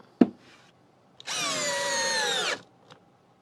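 A Hyper Tough Gen 2 4-in-1 installation driver, model CD0801, or a drill spins up for about a second with a loud, steady whine, close by. A sharp click comes before it and a faint tap after.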